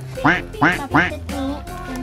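A toy duck-catching game set quacks three times in quick succession, bright nasal electronic quacks followed by a longer tonal electronic tune, close and clear in a toy shop.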